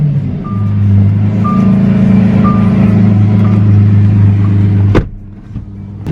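A Lamborghini Murciélago with a new battery runs loud and close in a low, steady engine drone, then a sharp knock cuts in and the engine continues more quietly.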